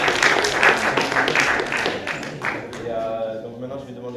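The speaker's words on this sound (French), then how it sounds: "Un dernier applaudissement pour elle." An audience at a theatre applauds a musician with dense, steady clapping that fades out as a speaking voice takes over.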